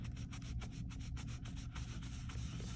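Fingers rub a paper rose petal, producing a quiet, steady dry scratching with soft repeated strokes, close and alone.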